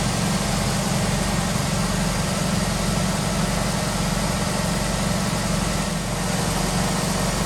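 A Chevrolet Cavalier engine running at idle, a loud, steady low rumble with constant broadband noise throughout and no voices.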